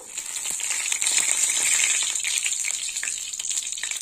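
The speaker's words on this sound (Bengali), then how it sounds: "এই তেলেই ফোড়ন দিয়ে দেবো। তো ফোড়নে নিয়েছি শুকনো লঙ্কা, তেজপাতা," Dry red chillies and bay leaves sizzling in hot oil for a tempering make a steady, bright crackling hiss with small popping spatters, close and moderately loud, heard alone for a few seconds.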